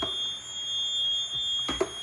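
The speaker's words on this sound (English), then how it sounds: "There's a smoke detector." A steady, high-pitched electronic home smoke alarm tone beeps continuously throughout during a fire alarm system test, with a couple of short clunks near the end.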